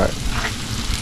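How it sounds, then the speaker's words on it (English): Bacon and potatoes fry on a Blackstone flat top griddle, a close, steady crackling sizzle lasting about a second with no talking. "We got the potatoes frying up. Got some bacon frying up."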